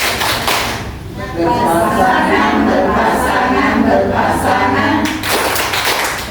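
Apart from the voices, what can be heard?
group rhythmic clapping chant (tepuk keluarga sakinah)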